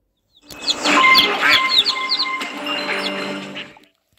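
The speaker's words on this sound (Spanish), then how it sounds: "Hay ruido del pato" A flurry of bright chirping and squeaky duck calls in a video game, many overlapping, fairly close and busy for about three seconds before stopping.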